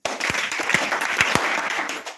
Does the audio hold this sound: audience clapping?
yes